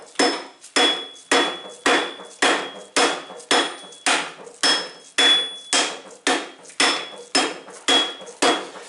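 A weighted rubber dead-blow mallet strikes a metal part in a workshop, about sixteen sharp, even blows in a steady rhythm, each with a short fading ring, with no talking.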